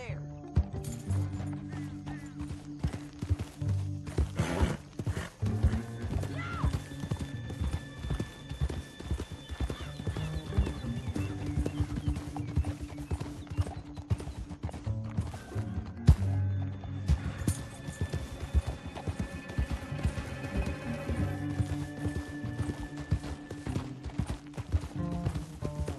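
Horse hooves clip-clopping steadily in Red Dead Redemption 2, with a horse whinnying, all set against a continuous game music score while characters talk over it.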